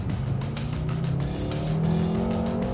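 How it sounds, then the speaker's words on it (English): A BMW M5 F10 launches hard off the line, its engine rising sharply through the revs with a brief tire squeal, loud and close throughout, with no talking. "You just have to press the M button, build up the revs, foot off the brake, and boom!"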